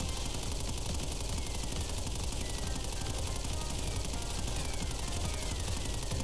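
Tommy Gun boss firing continuously in Crash Bandicoot N. Sane Trilogy, a dense, steady rattle of machine-gun fire with mechanical clatter running loud throughout, no voices.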